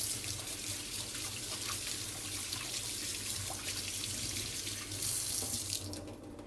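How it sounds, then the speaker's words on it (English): Water runs steadily from a kitchen tap as hands are washed beneath it, a constant close splashing stream that carries on for several seconds before cutting off near the end. "Wash off my hands real quick."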